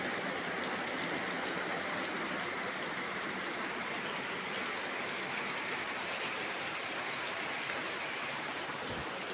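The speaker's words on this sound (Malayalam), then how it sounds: "ഇങ്ങനെ മഴ പെയ്താൽ എന്താ ചെയ്യുക അല്ലേ നല്ല മഴയാണ്" Steady, dense rainfall hissing without pause, a constant wash of drops close by with no voices.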